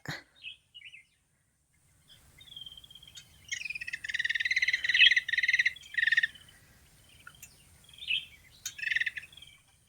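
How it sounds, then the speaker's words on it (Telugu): Small bird calling in a cashew orchard, short bright chirps and trills repeated in bursts, fairly close, over a faint low rumble of insects or background hum. "ఇది అదేదో పిట్ట"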